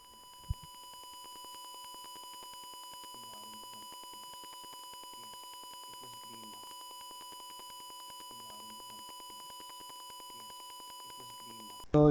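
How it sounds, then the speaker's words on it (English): A smoke detector's piezo buzzer sounds in short, evenly spaced rings about every few seconds, a thin electronic tone over a constant steady hum. "the piezo buzzer with tone 44 will keep ringing with a delay of 5 seconds between two rings"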